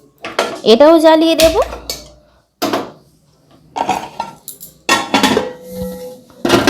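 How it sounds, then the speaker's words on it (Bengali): Metal baking pots for a cake clank and scrape as they are set down on a gas stove, several loud, close clatters spread between stretches of someone talking. "আর এই দুটো পাত্র কিন্তু আমি আগে থেকে গ্যাসে বসিয়ে দেব"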